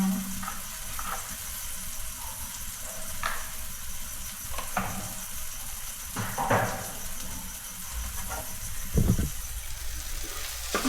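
Masala with coriander powder sizzles in a hot pan while being stirred for a chili bhaji, a steady soft frying hiss broken by occasional scraping strokes of the spoon and a clink near the end.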